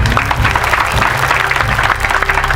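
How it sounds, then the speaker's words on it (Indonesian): An audience at an Indonesian classroom or anecdote performance breaks into loud, dense applause for a named guest, continuous clapping with a low crowd murmur beneath it. "Tepuk tangan dong buat beliau."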